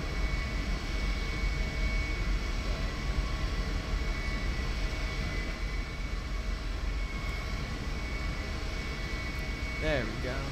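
An airplane in a video game takes off at Los Santos, its engine a steady, continuous roar and rumble holding throughout, with radio-style talk over it.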